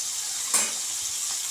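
Tomatoes for rasam fry in a pan with a soft, steady sizzle and a single brief clink or stir near the middle, close and fairly quiet.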